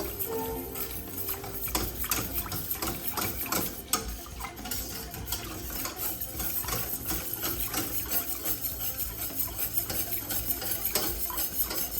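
Cornflour being mixed into milk in a bowl, a steady run of quick clinking and scraping strokes from a spoon, close and moderately quiet throughout.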